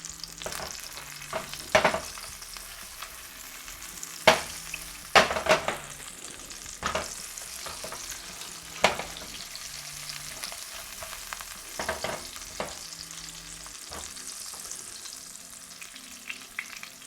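Onions and garlic frying in oil for a brown gravy, a continuous sizzle broken by sharper crackles and stirring scrapes, with no talk.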